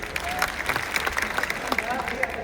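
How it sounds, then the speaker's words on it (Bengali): Crowd applause at the RFL factory day 2026 event: a dense, steady patter of many hands clapping nearby, with voices mixed in. "থ্যাংক ইউ স্যারের জোরে জোরে হাততালি"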